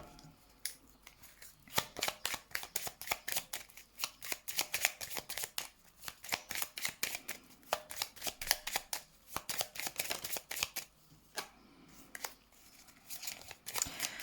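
Tarot cards are shuffled for a reading, a rapid, close run of crisp riffling and flicking bursts repeating almost without pause, fairly quiet with no talk over them.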